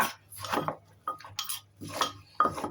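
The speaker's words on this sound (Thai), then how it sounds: "โจ๊ะโจ๊ะให้มันเข้ากับน้ำยำจ้า" Utensils toss a Thai yam salad of long beans and carrots in spicy dressing, giving several close, bursty clinks and scrapes against a bowl in an uneven rhythm.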